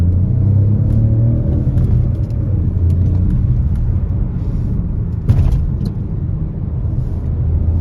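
A 2021 Peugeot 2008 GT Line accelerating on a wet road, heard from inside as a loud, steady engine rumble and road roar that holds for several seconds, with faint clicks over it.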